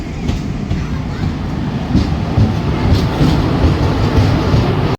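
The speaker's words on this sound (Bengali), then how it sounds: "হ্যাঁ ট্রেন চলে এসেছে।" A train pulls into a busy station at Farakka with a loud, steady rumble of wheels and carriages and faint clatter throughout, and voices in the crowd are barely audible.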